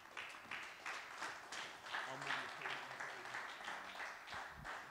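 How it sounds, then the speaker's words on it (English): A church congregation claps in praise, a moderate wash of applause running under someone speaking throughout. "let's give God one more hand clap of praise all across the house"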